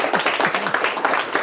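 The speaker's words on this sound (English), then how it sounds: "Give him a big round of applause." Applause from a small TV studio crew for a local Teacher of the Week, a steady, dense patter of clapping lasting the whole moment, fairly close and without a break.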